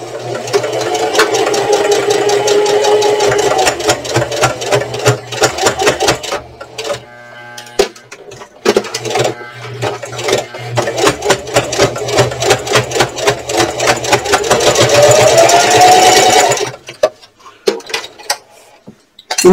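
Sewing machine stitching slowly through many thick layers of a purse, a steady mechanical whir and rapid needle clatter running in long bursts with a brief pause midway, then stopping near the end.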